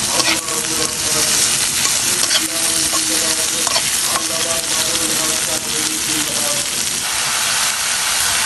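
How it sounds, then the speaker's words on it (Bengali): Spice paste for a pangas fish curry with bay leaves, green chillies, cardamom and cinnamon sizzles and hisses loudly in a pan while being stirred, with steady frying noise and occasional scraping clinks. "মশলাটা কষানো শেষ।"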